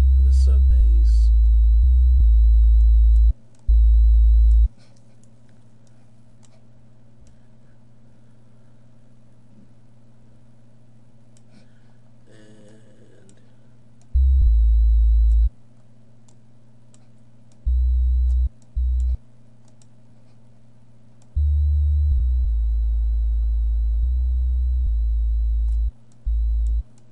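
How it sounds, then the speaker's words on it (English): A deep, steady synthesized sine sub bass for a dubstep track drones in repeated sustained notes, stopping and starting in loose rhythm, with faint high tones above. "the sine wave for the sub bass"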